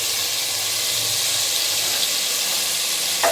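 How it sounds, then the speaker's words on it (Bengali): Tomatoes fry in a pan for Bengali ghugni, a steady close sizzle with a constant hissing texture, with no talk, and a brief sharper crackle near the end. "টমাটোটা যত ভাজবো তত ঘুগনির কালার লাল হবে।"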